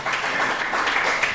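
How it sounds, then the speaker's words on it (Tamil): Church congregation at an Assemblies of God service in Tharmapuram, Sri Lanka, clapping in praise: a steady, dense wash of hand claps filling the room, fairly loud and continuous with no individual beats standing out. "கைத்தட்டி எல்லாரும் பிரைஸ் தரார்."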